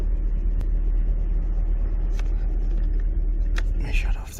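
2015 Chevy Camaro with a hard-shift, limp-mode transmission fault, its engine running with a deep, steady low rumble close by, a few knocks and clicks over it, and a person talking near the end.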